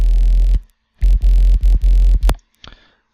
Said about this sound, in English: Just a basic sine wave.